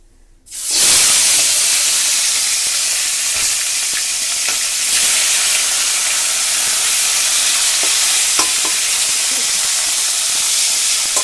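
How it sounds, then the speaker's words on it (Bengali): A fish head sizzles loudly in hot oil for a banana-flower dal, a steady close hiss that starts abruptly and continues throughout with faint crackles and stirring. "তেল গরম হয়ে গেছে এবার আমি মাছের মাথাটা ভেজে নেবো"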